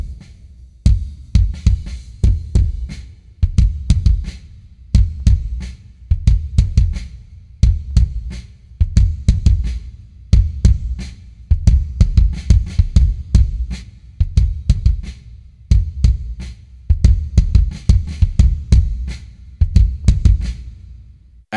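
Kick drum run through the Fuse Audio Labs Vpre-31a preamp plugin with the gain turned up, giving a steady pattern of loud, thick, punchy low thumps with sharp clicky attacks, repeating alone throughout.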